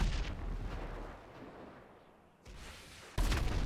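RPG launcher fire in a video game comes as heavy, booming blasts with rumbling tails: one at the start, a sharp hit midway and a louder burst at the end.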